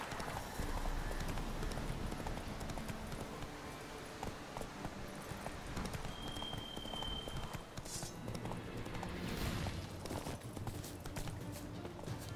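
Horse galloping in the video game Witcher 3, a steady rapid clip-clop of hooves throughout, fairly close and continuous, with a brief voice near the middle.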